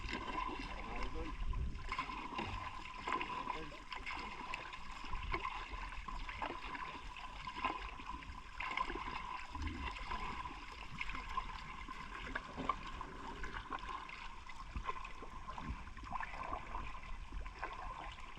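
A Yanmar engine drives a fishing boat on the water, a faint steady drone with splashing and gurgling water throughout, and speech mixed in.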